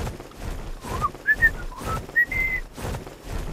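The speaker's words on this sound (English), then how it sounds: "Oh, whistle." A person whistles a few short rising notes, close and clear, in a broken pattern with pauses between, against quiet background noise.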